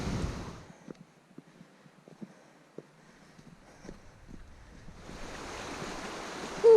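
River water pours over a small weir along a footpath by Gibson Mill, a steady broad rush with wind buffeting the microphone, dropping to a quieter trickle with faint knocks before the roar swells again.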